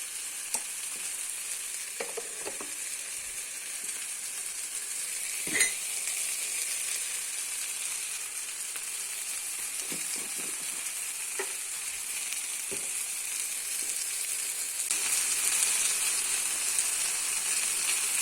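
Mushroom vegetable dish cooking in a pan gives a steady, close hiss of frying, with scattered light clicks and taps from utensils or the lid and no voices.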